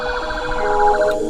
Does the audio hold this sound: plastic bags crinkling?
no